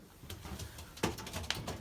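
Belgian racing pigeons in their loft, soft cooing and short rustling bursts with a couple of sharper flutters, fairly faint and close, with no talk.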